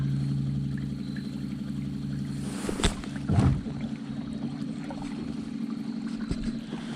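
A Newport electric trolling motor hums steadily on a boat at Millers Cove, a low continuous drone with a couple of brief splashes or knocks midway.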